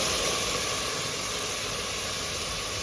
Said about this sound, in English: I am deglazing the soup with some white wine